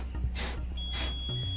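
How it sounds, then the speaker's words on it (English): A coach bus's low air pressure warning alarm as the air system drops to about 75 psi, sounding two loud, close electronic beeps with a steady tone alongside them over a low idling engine rumble. "Our alarm has come on to let us know that our air system is now down to about 75 psi."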